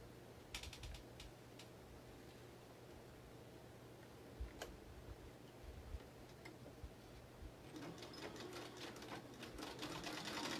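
A sewing machine stitches a triangular dart into a fabric mask with ties, a quiet, steady mechanical whir peppered with rapid ticking that grows a little louder toward the end.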